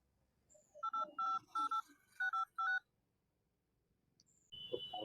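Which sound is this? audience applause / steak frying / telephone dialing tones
telephone dialing tones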